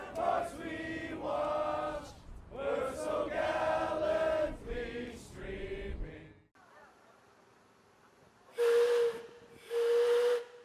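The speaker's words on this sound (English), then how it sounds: "The whistle of a steam engine signals the start of the corn boil" Two loud blasts of a steam engine whistle signalling the start of a corn boil, each about a second long, ring out after a stretch of people talking and a softer hissing lull.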